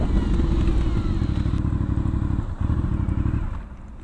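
Aprilia Shiver 900 motorcycle engine idling up close with a steady, throbbing low rumble and light mechanical clatter, holding evenly before tapering off as it is switched off.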